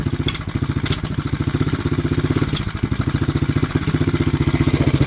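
A Kawasaki KLX 110 dirt bike that sat unused for years runs close by after starting, its small engine putting out a loud, steady, rapid putter with a faint clatter, and no voices.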